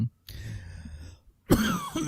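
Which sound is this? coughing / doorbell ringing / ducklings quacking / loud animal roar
coughing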